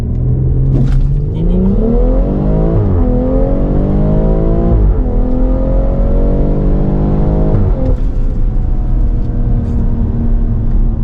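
A tuned BMW X3 M40i engine revs and accelerates hard, loud and close, its pitch climbing through repeated gear pulls with brief drops at the shifts and no voices.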